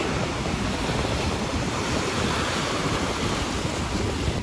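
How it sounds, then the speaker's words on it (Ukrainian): Steady, loud roar of large sea waves crashing on a stony shore in Alanya, mixed with rushing wind buffeting the microphone, continuous throughout. "Великі хвилі."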